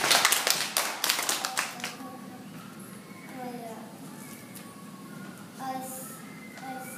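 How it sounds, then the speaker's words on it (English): Students in a school science class give a group a round of clapping, a short burst of close, brisk claps in the first two seconds that quickly fades into quiet room murmur with children's voices. "Give this group a big clap."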